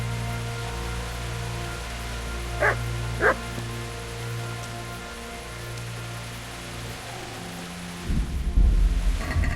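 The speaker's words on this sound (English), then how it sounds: "And that dog won't stop barking." Two short, faint dog barks carry over a steady low ambient bed in a medieval setting in the video game Kingdom Come: Deliverance, with a rumbling noise rising near the end.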